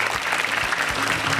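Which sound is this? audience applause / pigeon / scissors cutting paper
audience applause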